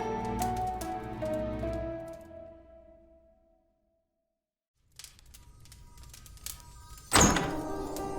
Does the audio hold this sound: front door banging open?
yes